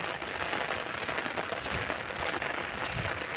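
Rain falls in a steady, even patter all around, with scattered sharper drips and crackles over a constant hiss.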